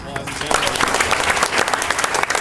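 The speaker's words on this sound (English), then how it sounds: "round of applause" Audience applause at a school board meeting: dense, steady clapping from a crowded room that stays loud and even for the whole short stretch.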